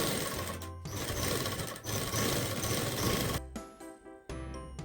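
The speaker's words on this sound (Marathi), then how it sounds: "आता आपण मेन फॅब्रिक आणि नॉन वुवन चारी बाजूने टिप मारून घेणार" A sewing machine stitches main fabric and non-woven interfacing strip edges together for a fabric bag, whirring in a fast close mechanical run for several seconds, stopping briefly, then starting again.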